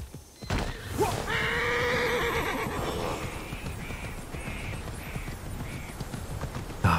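In the video game Immortals Fenyx Rising, a horse gives a loud, close whinny, followed by a steady run of clip-clopping hooves that continues to the end of the clip.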